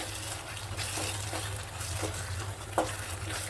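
Spices being stirred and fried in oil for a Bengali fish curry: a steady soft sizzle with occasional scraping stirs and one sharper clink, close and fairly quiet.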